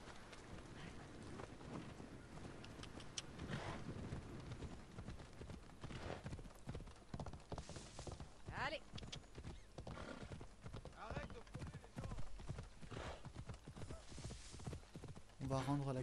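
Rhythmic hoofbeats of a horse clip-clopping along at a steady pace in Assassin's Creed Odyssey, with a brief whinny, under game sounds and faint talking.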